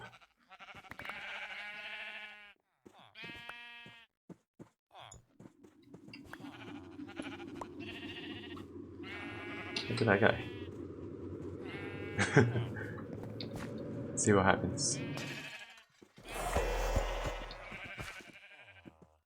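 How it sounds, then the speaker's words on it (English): Sheep in Minecraft, a modded Stoneblock world, bleat in a few short repeated calls that stand out over steady game music, with someone talking over parts of it. "Some sheep."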